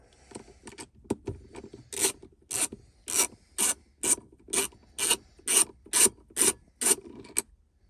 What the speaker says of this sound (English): go ahead and take these 2 bolts out